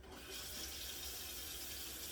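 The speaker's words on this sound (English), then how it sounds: "So we're going to put some cold water in here" Cold tap water pouring steadily into a kitchen pot, a continuous close hiss and splash that starts just after the opening and holds at an even level throughout.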